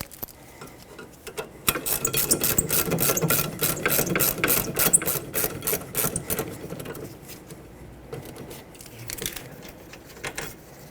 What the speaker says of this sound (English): Finish removing the bolts.